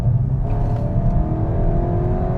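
A VW Golf GTI Clubsport 8.5 engine drones loudly in sport mode from inside the car, its pitch climbing steadily as it accelerates.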